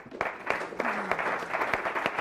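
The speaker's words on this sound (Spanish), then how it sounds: "Yo querría pedir un fuerte aplauso para todos nuestros ponentes" A conference audience claps for the panel speakers, giving a moderate round of applause with distinct individual claps in an irregular rhythm, heard on its own at a middle distance.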